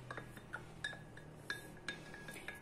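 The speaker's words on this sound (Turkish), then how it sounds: "Karıştırıyoruz." A spoon clinks against a glass while garlic is stirred into milk, with a series of light, bright taps at an uneven rhythm, faint and close, with no talking.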